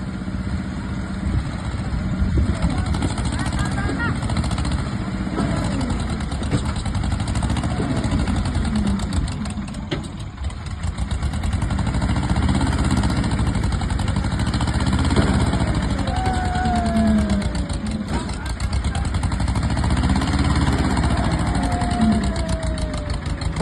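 A tractor engine labours under heavy, steady load while pushing alongside a JCB on a farm, a continuous close rumble with a rough, knocking edge and no voices.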